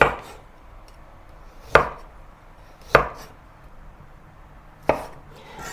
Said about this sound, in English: Then half a carrot cut into thin slices.